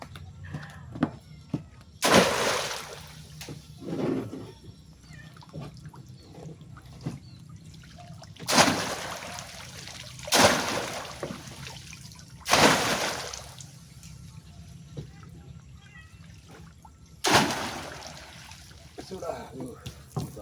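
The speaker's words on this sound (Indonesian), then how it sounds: "Kalau udah dibilas sampai bersih" Water splashes and trickles in several loud bursts as a bamboo fish trap is rinsed clean, separated by quieter stretches of dripping and background sound.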